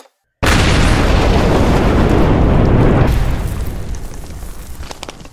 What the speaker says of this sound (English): The sound of the explosion was near deafening.